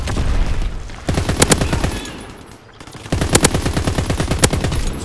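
Rapid automatic gunfire from Call of Duty: WWII on Xbox One, two loud bursts of dense machine-gun shots separated by a brief lull, with a steady battlefield rumble underneath.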